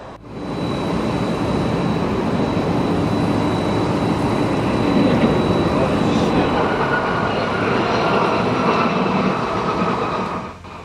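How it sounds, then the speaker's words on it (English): A FedEx Boeing 767-300 cargo jet makes an emergency landing with a landing gear malfunction, scraping the runway and throwing sparks: a loud, continuous roar and grinding rumble that rises in and holds steady for about ten seconds before cutting off. "a FedEx cargo plane had to make an emergency landing, sending sparks flying after encountering a mechanical issue early in the morning"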